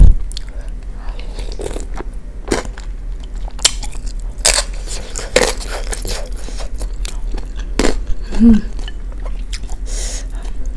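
Close, crisp bites and crunchy chewing on spicy bakso aci tapioca meatballs with a filling, sharp crackly snaps recurring irregularly over a low steady background.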